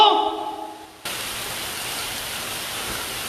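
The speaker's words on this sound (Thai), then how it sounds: "ฝนแม่งมาตกเลยตอนนี้วะเนี่ย" Rain suddenly starts to fall: a fading tone gives way to an abrupt onset of steady, dense hissing downpour that carries on evenly and fairly loudly.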